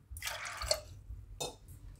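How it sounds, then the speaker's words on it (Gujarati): Water splashes into a pan of soaked dried pigeon peas, with a short pour followed by a second brief splash and drip, close by and fairly quiet. "હવે આપણે એમાં પાણી નાખશું. આ રીતે તુવેરની ઉપર થોડુંક પાણી હોય એટલું જ આપણે નાખવાનું છે"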